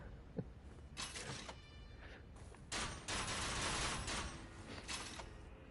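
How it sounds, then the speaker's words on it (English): A repeating crossbow contraption in Elden Ring fires a volley of bolts: a run of sharp mechanical clacks and whooshing releases with bursts of louder impact noise, close and fairly loud. "You can see the contraption moving, and it fires a volley of bolts."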